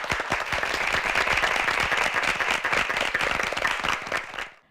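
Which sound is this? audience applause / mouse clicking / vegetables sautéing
audience applause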